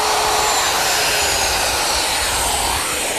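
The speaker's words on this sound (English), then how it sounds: "To remove the material, I'm using my router, which is set up with a collar and a 3/8 inch straight cutting bit." A router fitted with a guide collar and a 3/8 inch straight bit roars loudly and continuously as it cuts walnut along a plywood template, a dense, close, unbroken whine.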